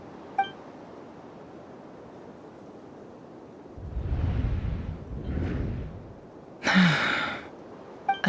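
A brief breathy gasp from a female character in the video game Genshin Impact, heard alone over a quiet background hum, followed by a short airy whoosh and a bright glassy chime.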